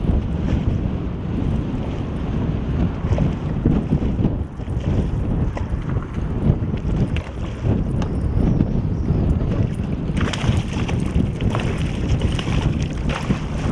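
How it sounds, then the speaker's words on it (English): Strong wind roars and buffets continuously outdoors on a fishing boat, loud and steady, with rushing water underneath. "so it's really windy here"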